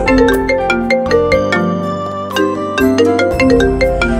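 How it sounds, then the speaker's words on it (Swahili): A mobile phone rings loudly with a bright melodic ringtone, repeating short chiming notes in a steady rhythm, heard alone without voices. "alisikia simu yake ikilia"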